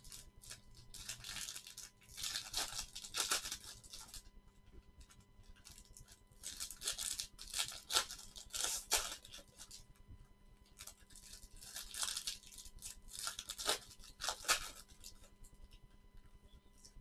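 Blade slicing through the packaging of a 2019 Bowman's Best baseball card case box, heard as repeated scratchy cutting strokes in several bursts, close and fairly quiet, with no talking.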